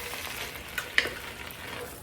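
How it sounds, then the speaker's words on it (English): Fire roasted tomatoes with their juice being stirred into a soup pot: a soft, steady simmering hiss with a couple of brief utensil clinks and scrapes against the pot, close and quiet, with no talking. "Dump those in with the juice. Give it a good stir."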